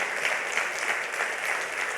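A church congregation claps loudly and steadily for the whole stretch, a dense, even wash of many hands with no voices rising above it.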